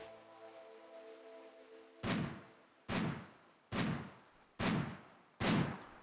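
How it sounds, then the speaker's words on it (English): Five loud, evenly spaced gunshot-like blasts in a RimWorld-style colony game, arriving about once a second after a quieter stretch of steady tonal game ambience, with no talking. "and then I hear a bunch of gunshots happening in the background."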